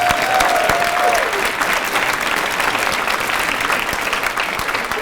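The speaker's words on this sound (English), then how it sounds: "Round of applause." A crowd applauds at a Harvest for Hunger recognition ceremony honoring a community college. The clapping is loud and sustained, with a brief whistle-like tone at the start, then a dense, even wash that eases slightly toward the end.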